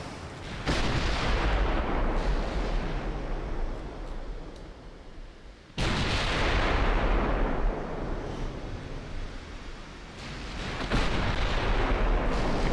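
Heavy main-gun salvos from warships in a naval battle game, three booming blasts each followed by a long rumbling roll, loud and close with no speech.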